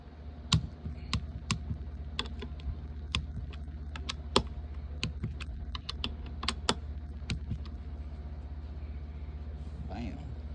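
Torque wrench tightening bolts to 21 foot-pounds on a 2024 Yamaha YZ250, a rapid series of sharp ratcheting clicks over a low steady hum, with a voice talking nearby.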